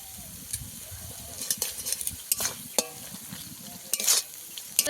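Spice paste and soft tomatoes fry in oil in a pan for a Bengali pangas fish dish, sizzling steadily while a spoon scrapes and stirs in repeated close clinks and scuffs.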